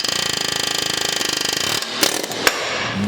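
A pneumatic air hammer rattles loudly in a rapid, even burst while knocking out a Loctite-seized control arm bushing on a 2004 Volvo V70 R, then stops, leaving a few sharp metallic clanks close by.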